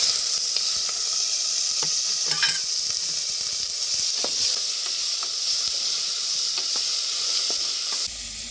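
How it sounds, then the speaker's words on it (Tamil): Small onions and tomatoes sauté in a pan for a goat trotter curry, giving a steady, close sizzle with faint stirring clicks throughout that eases slightly at the end. "வெங்காயம் தக்காளி வதங்கிருக்குது."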